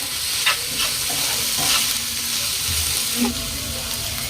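Onion and garlic paste frying in a pan for an egg ghee roast: a steady, close sizzle runs throughout, with a few stirring scrapes rising out of it.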